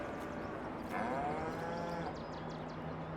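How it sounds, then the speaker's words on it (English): A cow in Farming Simulator 22 lets out one long, low moo, fairly loud and steady and lasting about two seconds, over a constant game ambience with no talking. "It says moo."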